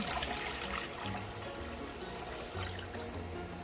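Tap water pours steadily into a cooking pot to boil noodles for a tuna and tomato pasta, a continuous splashing rush at close range with no one talking over it.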